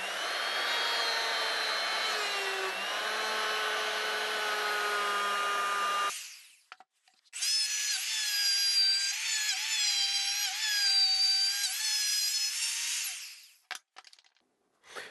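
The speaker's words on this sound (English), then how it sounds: "I'm using a rabbiting bit on my router, and I go all the way around all 4 sides" A router fitted with a rabbeting bit cuts along a wooden cabinet edge: a loud, high-pitched spinning whine for about six seconds, a brief gap, then a second equally loud pass that winds down at the end.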